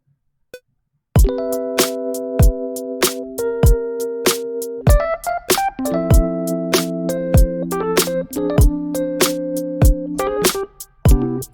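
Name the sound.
keys played for a neo soul K-pop beat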